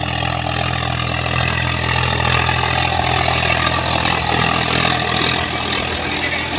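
A Swaraj or Sonalika tractor engine runs while the tractor works with a harrow. It makes a loud, steady, close-up drone with a constant rumbling idle-like tone and no pauses.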